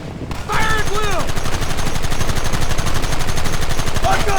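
Gunfire in Red Dead Redemption, a dense rapid rattle of many rifles and guns firing at once, loud and continuous, with brief shouted voices near the start and end.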